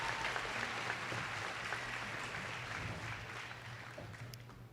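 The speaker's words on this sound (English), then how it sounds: "Give them a round of applause." An audience at a 2021 high school graduation ceremony applauds the graduating students, a fairly distant, steady patter of clapping that slowly fades toward the end.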